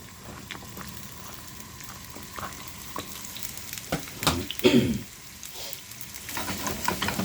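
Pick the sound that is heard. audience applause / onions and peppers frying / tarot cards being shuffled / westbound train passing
onions and peppers frying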